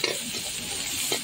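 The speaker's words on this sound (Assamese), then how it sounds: "এইকনি তেলতে আৰু পিয়াজখিনি ভাজি লৈছো" Sliced onions frying in a little oil in a pan, a short, soft stretch of crackling sizzle with light stirring.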